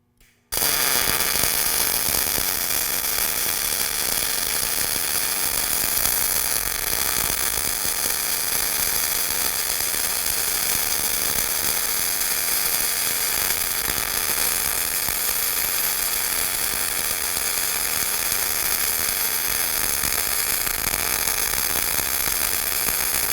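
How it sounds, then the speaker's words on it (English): Welding runs on a Vevor rotary welding roller. A dense, steady hiss and crackle starts abruptly after a brief pause and continues at an even level for over twenty seconds, with no talking. "let's get welding"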